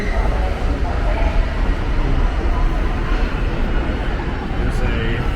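Loud rumbling subway train noise fills a station platform, a steady roar of wheels and motors with no pauses.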